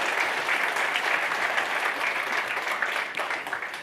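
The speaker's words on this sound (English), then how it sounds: "Let's have a big round of applause as we start the Power of Data Summit" Audience applause fills the opening of a data summit in a hotel venue, a steady wash of many hands clapping at moderate distance for a few seconds, fading slightly at the end.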